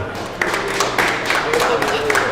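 Basketball teammates clap in a loose, scattered burst to cast a vote, with several sharp claps standing out over a crowded room and voices in the background.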